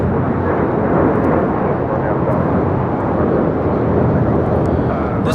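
A JetBlue Airways Airbus A321 jet roars steadily on its takeoff roll at LAX, a loud, continuous broadband engine rumble with wind buffeting, while a voice talks over it.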